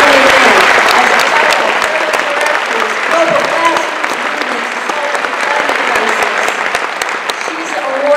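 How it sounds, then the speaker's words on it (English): Loud, sustained applause from a lecture audience welcoming an author onto the stage, a dense crowd of clapping hands with some cheering mixed in that holds steady throughout. "Give her a round of applause as she's coming in."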